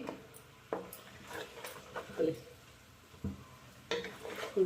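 Chicken korma fries in a pan, with soft sizzling under scattered clinks and scrapes of a spoon stirring against the metal, fairly quiet and close.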